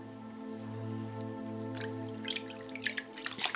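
Water splashes during a face rinse in a skincare routine, soft wet splashes and drips building toward the end over a steady low background hum, close and fairly quiet.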